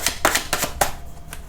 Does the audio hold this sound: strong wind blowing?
no